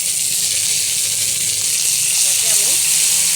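Ginger, cumin and chilli paste fries steadily in a pan for vegetable khichuri, giving a close, continuous bright sizzle with faint stirring underneath.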